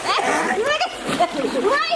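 Someone splashes into a pool at a friends' getaway in Phoenix, the water sloshing and splattering close by while people talk and call out over it.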